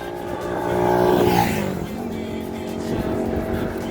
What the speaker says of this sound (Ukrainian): Дві машини ззаді.